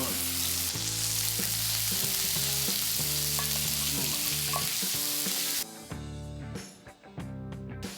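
Cubes of firm tofu frying in olive oil in a pan, a loud, dense crackling sizzle over rhythmic background music that drops to a quieter, patchier sputter near the end.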